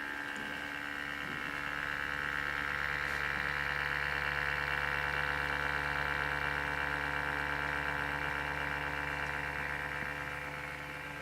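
A noisy Samsung NP550 notebook computer's cooling fan whines steadily up close, a continuous buzzing drone with layered tonal hum that holds unchanged throughout, no voices present.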